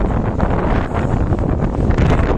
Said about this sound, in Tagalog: Grabe, sobrang hangin sa labas.